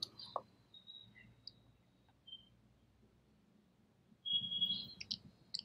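Single faint mouse clicks tick in a quiet room, spaced irregularly, while the Burp Suite application is opened on a computer.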